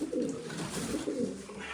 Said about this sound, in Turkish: Bunların içinde uçup oynayan kuş da var.